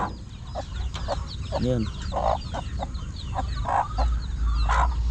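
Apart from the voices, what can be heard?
chickens clucking, newly hatched chicks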